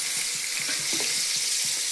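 Fish frying in a pan gives off a soft, constant sizzle, a fine hiss with a few faint ticks and bubbles, fairly quiet and up close, with no voices.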